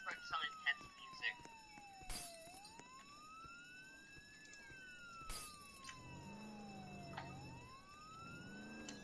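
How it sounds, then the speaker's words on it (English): Police sirens wail in the Roblox Jailbreak video game, a rising and falling electronic tone sweeping slowly up and down, moderately loud, with scattered game sounds and brief bursts around it while players talk between the sweeps. "I hear the sirens."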